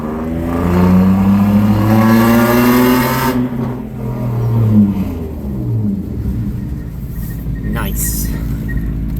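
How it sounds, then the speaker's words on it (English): A BMW E36 with a manual gearbox revs hard in second gear, its engine note rising loud and close for about three seconds before easing off into a lower running rumble; a voice speaks briefly over the engine. "taking a little drive in the E36 BMW here in second gear"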